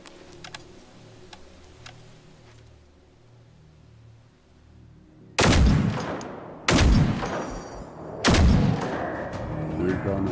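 Three loud, sharp gunshots from a weapon fired at robots in a video game set in Sweden, spaced about a second and a half apart, following a quieter stretch of faint ticking and low hum.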